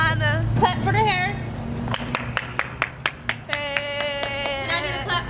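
Outdoors on a Miami street during spring break, a few people clap for several seconds in a loose, uneven rhythm of sharp nearby claps, mixed with talking voices and laughter.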